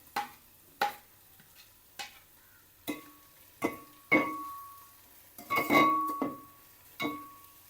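Ginger and garlic sautéing in a pan for dum biryani, heard as a series of separate scraping stirs and clinks of a spoon against the pan, about ten strokes in an uneven rhythm, close and moderately loud, with no talk.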